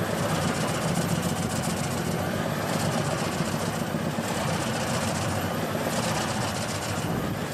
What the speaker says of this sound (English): The machine is built with a powerful engine that delivers consistent and high-level performance.